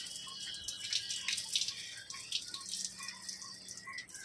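Water trickles and splashes softly while four freshly picked, sap-covered mangoes are washed, with faint irregular drips and gentle flow at close range and no talk.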